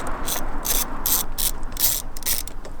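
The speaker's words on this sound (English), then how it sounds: "first thing to do to remove this airbag is to take these screws out on the side." A hand ratchet works loose the side screws holding the airbag in a cheap, worn Mustang GT, giving rapid clicking bursts close up, about six runs in quick succession with brief pauses between.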